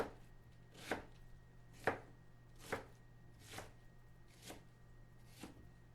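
A knife shreds a vegetable into bite-sized pieces for a medieval pottage, six soft, evenly spaced chops on a cutting board, quiet and close over a faint hum.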